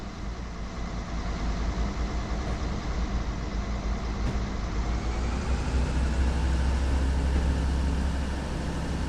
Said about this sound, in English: Remember the engine sound? It is rather high pitched, a bit thin. Revving up